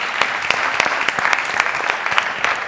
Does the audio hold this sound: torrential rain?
no